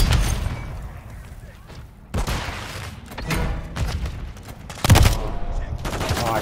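Gunfire in Call of Duty: Modern Warfare III, loud bursts and booming shots crackling through a chaotic multiplayer match, with several heavy impacts punctuating the din and players faintly audible in the mix.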